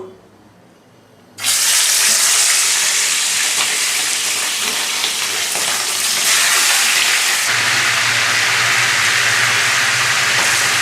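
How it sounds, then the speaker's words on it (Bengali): Chicken roast pieces dropped into a hot pan, a sudden loud burst of sizzling after a quiet start that continues strongly, then deepens and intensifies near the end. "প্যানটা আমার গরম হয়ে গেছে, এখন আমি একে একে রোস্টগুলো"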